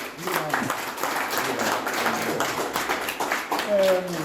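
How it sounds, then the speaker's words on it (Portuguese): Applause from an audience at an art exhibition opening rolls on as a steady patter of clapping, while a voice talks over it near the end. "Um grande aplauso para o Filipe Amaral"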